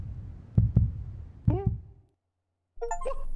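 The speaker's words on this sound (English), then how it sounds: "Whose heartbeat's that?" Deep, close heartbeat thumps in a Backrooms video game, several muffled beats in pairs, then the sound stops and a tonal electronic chime follows.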